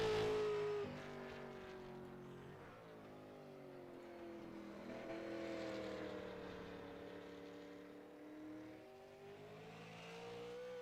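Late model stock cars race around Myrtle Beach Speedway, their engines droning and revving in a sustained, rising and falling roar that swells and shifts as the pack circles the track.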